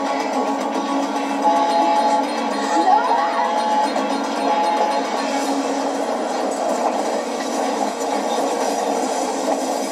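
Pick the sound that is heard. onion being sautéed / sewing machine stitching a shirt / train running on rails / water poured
train running on rails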